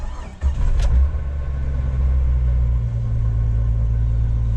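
A 26-year-old Jeep Wrangler TJ cranks briefly and catches, then its engine settles into a loud, steady low idle rumble heard up close with no talk.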